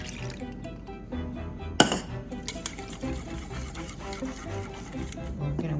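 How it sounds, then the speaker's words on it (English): A whisk beating heavy cream and whole milk for a spinach and fava bean quiche, giving steady light clinks and sloshing against the bowl, close and moderately loud, with one sharper knock partway through. "We're going to whisk that completely"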